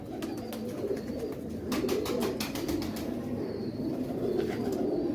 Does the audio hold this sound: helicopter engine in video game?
no